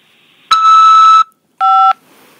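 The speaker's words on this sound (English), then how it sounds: "press 5 to accept this call." A loud, close electronic tone from a phone keypad press during an automated prison call-acceptance prompt: one sustained beep of about three-quarters of a second, then a shorter second tone after a brief gap.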